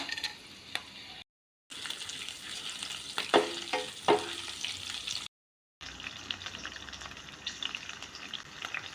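Green chillies, bay leaves and garam masala crackle and sizzle in hot oil in a pan, with some stirring clatter. The sizzle runs continuously across two short silent cuts, and no one speaks.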